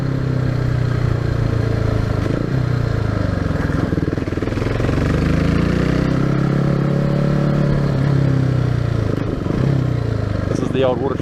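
Hyosung GD250N 250cc motorcycle engine climbing uphill near an old mine site, a steady droning mid-pitch note with gear-change dips and rising pitch sweeps, loud and close with wind rush throughout.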